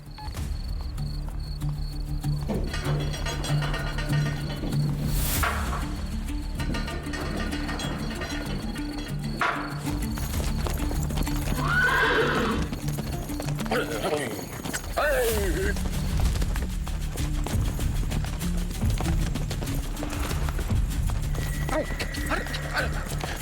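A mare's hooves clip-clop rapidly in a sustained gallop with occasional neighs, heard amid outdoor ambience with insects chirping and voices talking over it.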